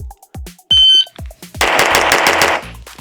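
Rapid pistol shots from an Infinity 2011 handgun fire in a fast burst, loud and close, sharp cracks blurring into a dense volley after a few separate cracks and a steady beep.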